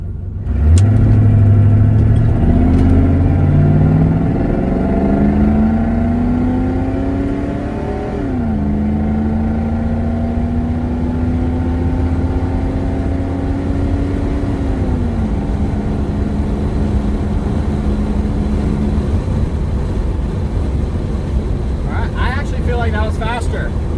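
A car accelerating in first gear, the engine starting loud and then climbing steadily in pitch, with a brief drop as it shifts and then climbs again, heard from inside the cabin with the window down.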